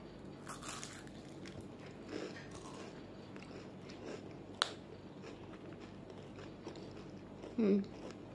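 Crisp bites and crunchy chewing on a pistachio waffle cone, soft and close, with a few brief crunches spread through an otherwise quiet stretch.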